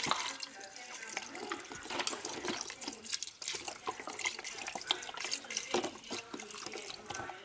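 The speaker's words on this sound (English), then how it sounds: "Could put in some chicken stock. Just pour some of that in there." Chicken stock is poured into a pot of taco soup on a home stove, a steady splashing liquid stream that runs close up, with a voice speaking over it.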